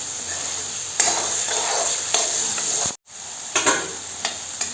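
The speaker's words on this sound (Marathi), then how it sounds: "असं मस्त परतून घ्यायचं बरं का, चारी बाजूने मस्तपैकी." Fresh prawns sautéed in masala in a pan, a close, continuous sizzle broken by scraping and tapping of a utensil stirring against the pan, with one brief silent gap partway through.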